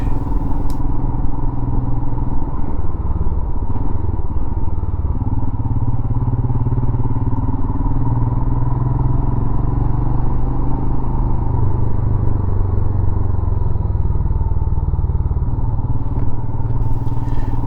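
Royal Enfield Himalayan motorcycle riding through a village with narrow, steep streets, its single-cylinder engine thrumming loud and close throughout with steady wind rumble and slight shifts in pitch.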